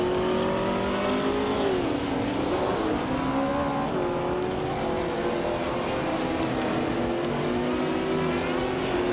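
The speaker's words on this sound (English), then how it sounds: "Pumpkin Flurry is cruising in a Ferrari 365 GTB 4 Daytona, a classic beauty known for its speed and style." A Ferrari 365 GTB/4 Daytona with a V12 engine is raced in a video game. The engine drones loudly and steadily throughout, with rising and falling pitch as it shifts and revs, and no talk.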